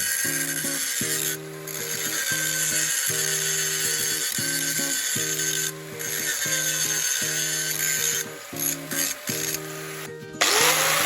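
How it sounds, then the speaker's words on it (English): Hand grinding a vertical-up 3G weld with a grindstone, a loud steady abrasive rasp with a low buzzing drone, broken by short pauses and resumed strokes throughout, no talking. "We grind first with a grindstone."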